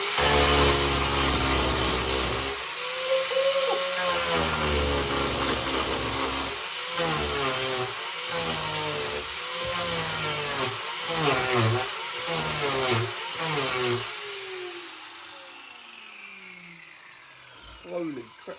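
Close, loud rasping and whirring from an Arbortech power carving unit fitted with a Turboplane cutting into solid oak, rising and falling in repeated passes before the motor winds down and stops.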